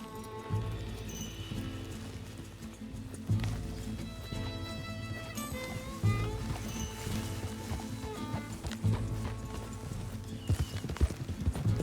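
Horse hooves clip-clopping at a steady riding pace in the Red Dead Redemption 2 video game, with the rhythmic footfalls close and clear over layered game ambience and music, and no talking.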